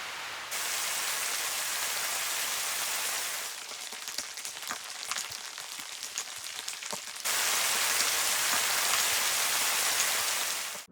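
Layered rain ambience from a detailed rain sound library, steady dense hiss of rain that shifts between layers, with a sparser spell of distinct drops and patters before a louder, fuller downpour returns.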